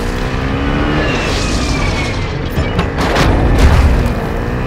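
Airstrike explosions rumble through Call of Duty Warzone 2 gameplay, a dense, loud wash of deep booms and roaring blasts that swells toward the end, with no voices over it.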